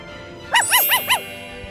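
Four short, high yips from a puppy come in quick succession, fairly close and alone with no talk over them.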